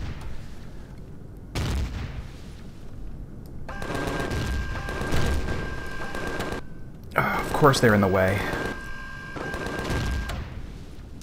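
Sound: explosions in the video game Empyrion

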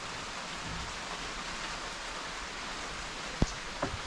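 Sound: tropical rain falling in Thailand

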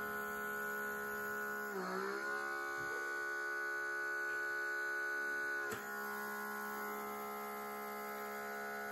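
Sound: derma suction device humming during facial use

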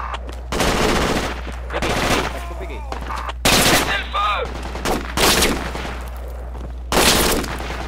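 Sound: gunfire in a video game

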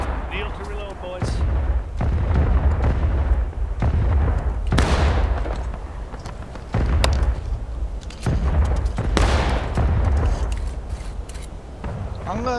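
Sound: musket volley gunfire in War of Rights video game

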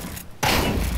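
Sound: gunfire in the video game Counter-Strike 2

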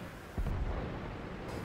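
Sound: tank cannon shots in the video game World of Tanks

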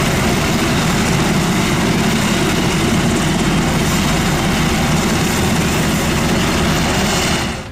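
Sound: rescue helicopter flying over stormy sea

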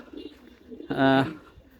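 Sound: pigeons cooing

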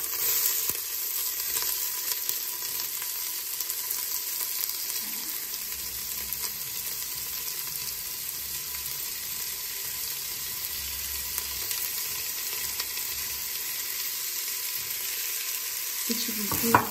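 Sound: onion frying in a pan for lamb curry

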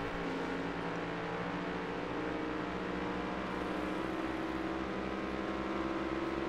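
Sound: race car engine in NASCAR Heat 5 video game

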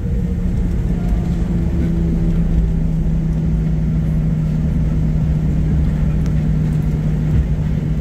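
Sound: Southwest Boeing 737-800 rolling out after landing, reverse thrust retracted

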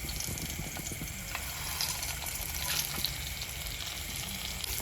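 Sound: spices and coconut roasting in pan for tomato kurma

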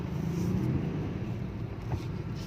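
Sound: heavy road traffic

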